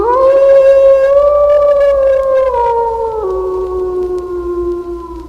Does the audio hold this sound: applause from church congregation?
no